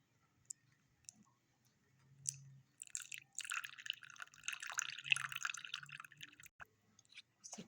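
A little water poured into cornflour in a small bowl and stirred for a winter soup, starting with a few faint drips, then wet clicking and scraping as the mixture is mixed close up.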